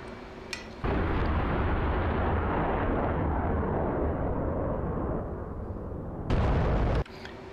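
A bomb dropped from an F/A-18C Hornet in the DCS flight simulator explodes as a heavy, sustained rumbling blast lasting several seconds, followed by a short, sharper burst near the end, with no talking.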